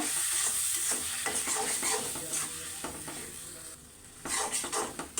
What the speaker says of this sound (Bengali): এই পর্যায়ে কিন্তু আমি মশলাটাকে ভালো করে কষিয়ে নিচ্ছি